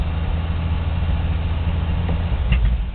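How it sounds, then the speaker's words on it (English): A 1982 Chevy truck's six-cylinder engine runs at high idle, a steady low rumble close by, constant throughout with a slight swell near the end. "That 6-cylinder is a wonderful, beautiful working piece of machinery. That's how high idle's working"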